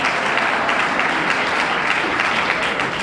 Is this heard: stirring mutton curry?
no